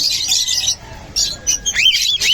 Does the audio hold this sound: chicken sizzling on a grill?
no